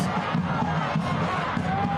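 Steady stadium crowd noise from the stands at a Rhode Island FC soccer match against Las Vegas Lights FC, a continuous broad roar of cheering and shouting at moderate level for the full stretch.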